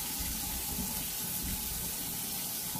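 Tap water runs steadily into a sink before a Sboly single-serve coffee maker is filled, a continuous close splashing hiss with no talk over it.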